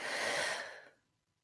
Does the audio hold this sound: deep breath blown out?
yes